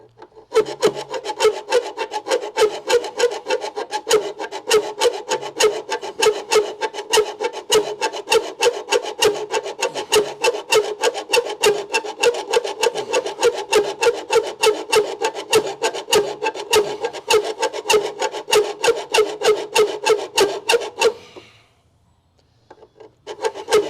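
Hand filing on an aluminium part, a steady rasping rhythm of rapid back-and-forth strokes, loud and close, running continuously for about twenty seconds before stopping abruptly.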